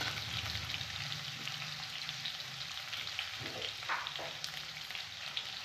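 Onions fry in hot oil with a faint crackling sizzle and scattered spattering pops, joined by light stirring scrapes midway, at a quiet level with no talking.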